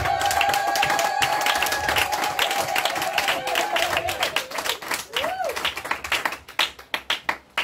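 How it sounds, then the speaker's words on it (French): A church congregation claps and acclaims the Lord together, starting as a dense roar of applause and voices and thinning toward the end into a few loud, separate claps, while singing and speech continue over it. "Acclame un peu le Seigneur, acclame le Seigneur"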